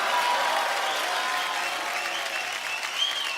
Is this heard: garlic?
no